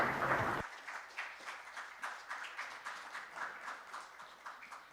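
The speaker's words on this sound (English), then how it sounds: "Please give them a round of applause." An audience at an international IP court conference moot arbitration breaks into applause after a loud opening burst, scattered clapping continuing evenly at moderate distance for several seconds.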